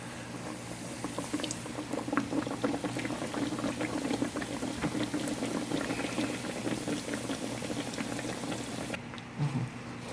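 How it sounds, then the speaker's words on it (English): Continuous bubbling sizzle of dough frying in hot oil, steady and close, ending with a brief soft knock. "And we will be frying one."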